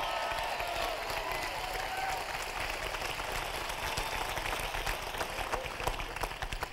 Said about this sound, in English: Whenever we clap with enthusiasm and excitement.